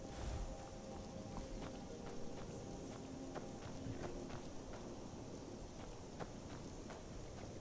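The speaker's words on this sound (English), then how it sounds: "Yeah, that's a horse." Horse hooves clip-clop steadily in Skyrim, a run of evenly spaced, moderately close hoofbeats over a constant ambient wash, with no voices.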